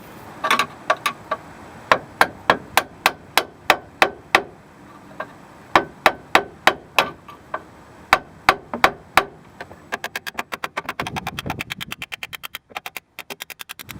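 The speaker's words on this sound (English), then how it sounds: "putting a screwdriver up here and tapping it with a hammer" Sharp metallic taps of a hammer striking a screwdriver while fitting a car motor or transmission mount, evenly spaced and close, speeding into a rapid flurry of lighter taps near the end.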